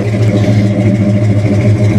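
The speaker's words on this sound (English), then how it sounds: "get you a little snort of some 327 exhaust." A 327 V8 engine rumbles loudly and close by, its deep, throaty exhaust pulsing steadily as if at a low rev.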